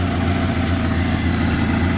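A water-cooled, fuel-injected 1300cc Kawasaki Voyager motorcycle engine idles steadily and close up, a continuous low rumble holding even throughout with no voices.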